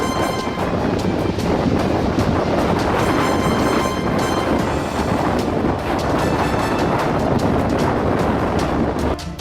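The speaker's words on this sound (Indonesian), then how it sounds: "Badai tersebut membawa angin yang bertiup dengan kecepatan tinggi dan salju gunung dalam jumlah yang sangat besar" A strong winter storm wind blows in a loud, continuous roar with gusty buffeting against the microphone, dense and unbroken throughout, with no voices.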